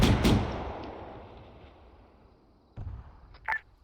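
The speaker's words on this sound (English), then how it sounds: "Auto cannons shooting." In the Arma 3 video game, an autocannon fires one heavy report that decays over a couple of seconds, then a second dull boom and a sharp crack follow, set against quiet background with no talk.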